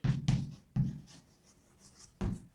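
Pen scratching across paper in two short bursts near the start, a pause, then another stroke burst and a brief final stroke, close and fairly quiet with no talking.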